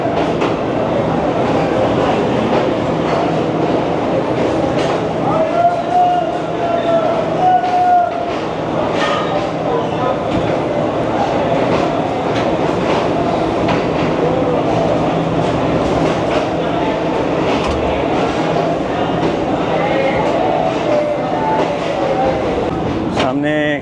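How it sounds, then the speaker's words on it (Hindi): The 5UP Green Line express pulls away from platform 4 at Rohri station, a steady broadband rumble of rolling carriages with faint wheel squeal and clatter, with station noise and a few voices in the background. "5:55 पर 5 अप ग्रीन लाइन ने रोहड़ी स्टेशन छोड़ दिया"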